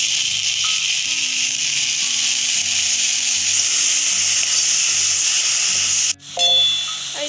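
Coriander leaf chutney frying in oil in a pan, a steady close hiss and sizzle that runs throughout, with a brief clank of a utensil near the end and no speech.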